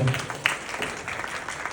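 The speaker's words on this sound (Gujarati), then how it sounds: "ભાઈ ધમુભાઈને માટે એક તાળીઓના ગળગળાટ કરી દો" Audience applause at an award event, a short burst of clapping mixed with chatter and voices, moderately loud and uneven over under two seconds.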